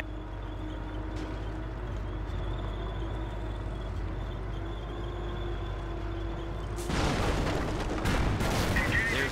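Sherman tank in Company of Heroes firing on a German Panzer: a steady engine and battlefield rumble that breaks into loud, dense cannon blasts and explosive bursts in the final seconds.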